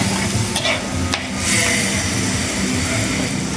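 Masala frying in a pan for a Tamil prawn ball kuzhambu sizzles steadily while a spoon stirs it, with a brief splash as water goes in, close and fairly loud with no talking.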